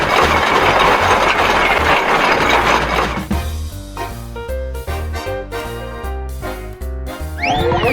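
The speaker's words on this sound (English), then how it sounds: "A tractor goes chuck chuck chuck." A tractor engine runs with a steady chugging, mechanical rhythm, loud and close, after a burst of rushing noise at the start.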